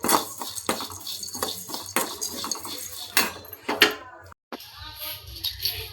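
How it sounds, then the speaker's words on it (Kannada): Flattened rice (poha) scraped and tossed in a dry pan with a metal spatula, rapid close clinks and rustling scrapes that pause briefly near the end. "ಅವಲಕ್ಕಿ ಹಾಕ್ಕೊಂಡು ಬಿಸಿ ಮಾಡ್ಕೋಬೇಕು."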